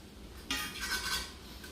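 A utensil stirs fresh spinach into a gnocchi mixture in a bowl, giving a brief, quiet scrape and clink that starts halfway through.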